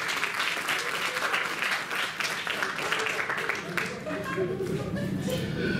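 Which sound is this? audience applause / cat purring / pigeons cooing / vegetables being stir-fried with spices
audience applause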